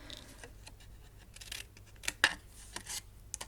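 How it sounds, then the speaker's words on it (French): Scissors snip at a bevel through a small cardboard tab on a handmade chic box with two lids, giving a few quiet, close crisp cuts with one sharper snap near the middle. "on vient biseauter tout simplement sa petite languette"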